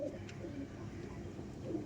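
An Andhra pigeon at a loft gives soft, low coos, faint and close, with a gentle continuous murmur behind.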